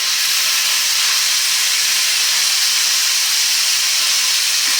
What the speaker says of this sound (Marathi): ही गवार छान मस्त परतून घेऊया त्या तेलावरती